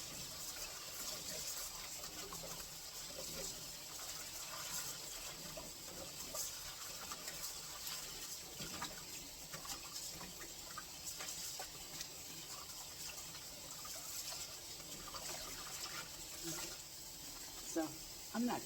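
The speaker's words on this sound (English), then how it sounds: "we're gonna go ahead and do our second rinse of these cabbages" Water runs steadily into a basin while garden cabbages are rinsed a second time, a faint, even hiss that stays constant throughout with small splashes near the end.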